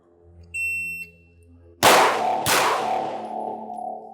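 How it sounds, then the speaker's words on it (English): A short electronic shot-timer beep sounds, then two loud, sharp pistol shots ring out about half a second apart on a shooting range, each trailing off into a lingering echo. "On the beep, 2 rounds in 4 seconds."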